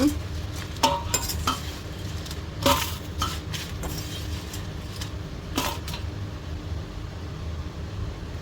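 Fried moringa leaves are stirred in a pan and scraped onto a plate, with several sharp metal scrapes and clinks over a steady low background hum, up close.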